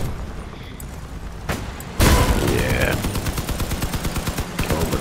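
Machine guns mounted on a truck in Crossout fire in a sustained, rapid stream of evenly spaced shots that starts abruptly after a brief boom and stays loud and close to the end.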